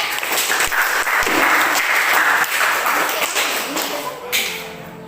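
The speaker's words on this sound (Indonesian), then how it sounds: "Dan tepuk tangannya buat Nadia" A classroom audience applauds a student named Nadia at an Indonesian school lesson: a steady wash of many hands clapping for about five seconds, fairly loud, with a few sharper claps standing out near the start.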